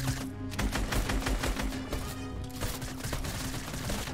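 Tommy gun gunfire in the Fortnite video game, sustained rapid bursts of loud crackling shots that run almost continuously over several seconds, with game sound effects layered underneath.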